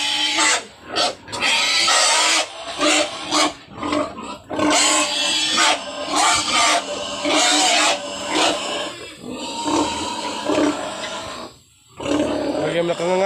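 A persistent sow, a mother pig on a farm, grunts and squeals loudly in repeated bursts close by, with people talking in the background between and over the calls.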